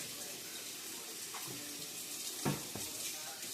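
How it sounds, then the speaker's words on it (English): Kitchen sink tap running while hands are washed, a steady broadband rush of water with a few splashes and clatters, moderately close, no talk over it. "I'm going to wash my hands real quick."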